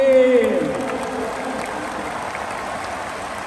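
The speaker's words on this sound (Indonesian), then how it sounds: "Tepuk tangan dulu yang meriah untuk Gus Muhaimin." Crowd applause greeting Gus Muhaimin at a large rally, a dense steady wash of clapping that starts over a brief voice and music and then carries on evenly.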